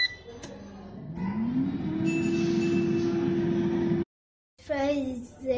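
Havells Prolife air fryer running with French fries inside: a steady motor and fan hum that rises in pitch and holds, then cuts off abruptly, followed briefly by a voice.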